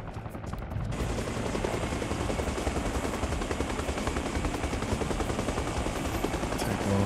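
Helicopter lifting off in the military video game Arma Reforger, a steady loud rotor roar with dense rhythmic chop that starts abruptly after a brief quieter moment and holds for the rest.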